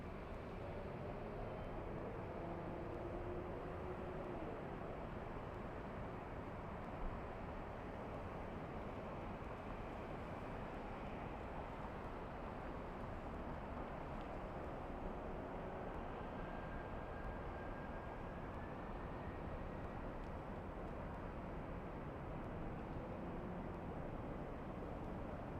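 A WestJet Boeing 737 airliner at LAX gives a steady, broad jet roar that holds evenly throughout, fairly loud and continuous, with a faint rising whine partway through and no voices.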